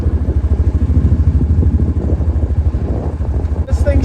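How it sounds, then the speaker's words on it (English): A carbureted off-road vehicle engine labours steadily up a steep mountain trail, its low rumble loud and close with a regular pulsing beat throughout, and a brief rattle near the end. "This thing sure runs good for not being fuel injected."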